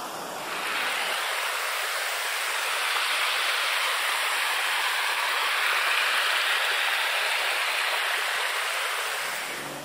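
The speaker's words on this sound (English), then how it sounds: "and of course the creek down here." A creek runs below a gravel trail in Doughton Park, a continuous broad rush of flowing water that holds steady and fairly loud for about ten seconds, with no voices over it.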